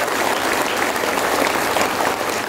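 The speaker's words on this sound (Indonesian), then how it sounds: "Tepuk tangan buat beliau." Loud, dense applause from an audience at a literacy event honoring a city mayor, a continuous close wall of clapping at an even level for the whole stretch.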